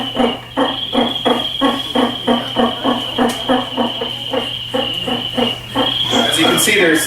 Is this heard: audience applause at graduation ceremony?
no